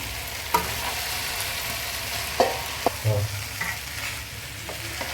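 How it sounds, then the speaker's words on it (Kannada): Cooked rice going into a pan of tomato bath masala, heard as a soft stirring scrape and gentle sizzle with a few distinct clunks of a spoon against the pan, moderately close and with no talking. "ನಾವು ಅನ್ನ ಮಾಡಿಟ್ಕೊಂಡಿರೋಂಥ ಅನ್ನ ಹಾಕ್ಕೊಳ್ಳೋಣ"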